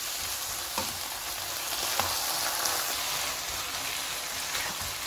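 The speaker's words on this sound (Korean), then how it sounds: "충분히 꽈리고추와 이 양념에 배일 수 있도록 약불로 천천히 이렇게 졸여주셔요" Shishito peppers slowly simmering in a sauce over low heat for a stir-fried anchovy side dish, giving a steady, fine sizzle and crackle with a few soft stirring clicks, close and even throughout, with no talking.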